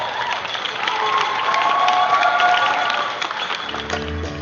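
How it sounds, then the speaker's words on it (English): Audience at a workshop event bursts into loud cheering, whoops and applause, a sustained crowd roar that swells in the middle and tapers toward the end. "if we give them a really big round of applause"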